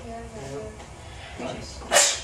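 A single sharp sneeze bursts out near the end in a classroom, loud and brief, following a few quiet spoken words.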